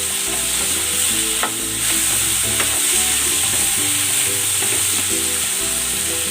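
Pork and tomatoes sizzle and fry steadily in a hot pan, with stirring scrapes and clinks on top, loud and close, with no talking.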